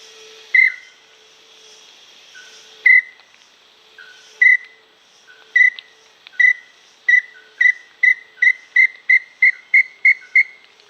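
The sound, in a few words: whistled imitation of a male inambu (tinamou) bird call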